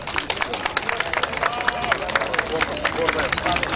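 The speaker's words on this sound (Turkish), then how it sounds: "Evet arkadaşlar alkışlıyoruz." A crowd gathered outdoors for a press statement by retirees in Taksim claps in a loose, uneven rhythm, the individual claps distinct and fairly close, mixed with overlapping chatter and voices throughout.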